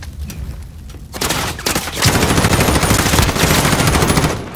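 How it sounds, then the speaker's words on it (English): Rapid automatic gunfire in a survival video game, loud and close, with sparse shots at first and then a dense, sustained stream of bursts that fades at the end. "They're shooting at you, you know that, right?"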